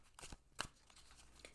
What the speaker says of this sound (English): They hand over hand shuffle perfectly.